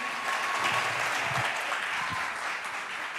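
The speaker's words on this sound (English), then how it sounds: "clap your hands and welcome Isaac" An audience in a church-style event space claps and cheers steadily as hosts are welcomed on stage, a dense, even wash of applause with no speech.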